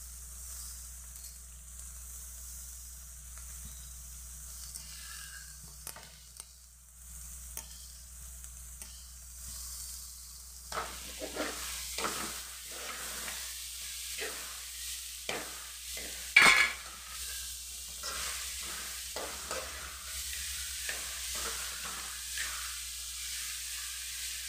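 Carrot pieces fry and sizzle in a pan on the stove for carrot rice, with a soft steady hiss and repeated scraping stirs growing louder and busier in the second half, one sharp clatter near the middle.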